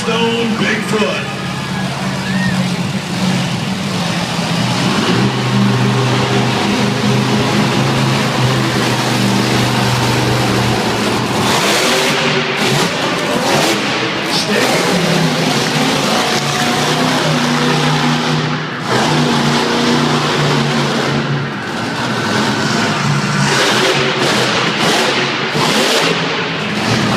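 A Firestone Bigfoot monster truck at an arena show in Pasco, Washington roars loudly and steadily, its big engine revving throughout, while an announcer talks over it and the crowd noise carries on underneath.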